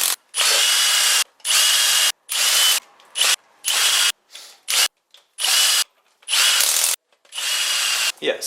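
A power tool drives in head gasket bolts: loud, close bursts of whirring come one after another, each about half a second to a second long, with short silent gaps between and no talk.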